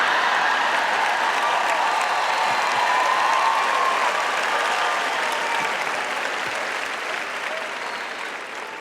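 Sustained applause from a large audience at a Joyce Meyer sermon fills the whole stretch as a dense, even roar of clapping that slowly fades slightly toward the end, with no talk over it.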